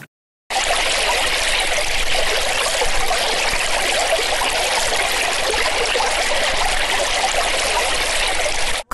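A spring among trees on the outskirts of Khotyn village in Rivne region flows with a steady, close, bright trickling rush of water, continuous and unbroken, with no voices.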